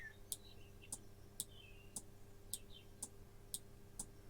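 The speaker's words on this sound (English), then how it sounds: "And you can probably hear it clicking." An electromechanical relay clicks at a steady rhythm of about two clicks per second, eight crisp ticks in a row over a faint background hum, with a few soft chirps between them.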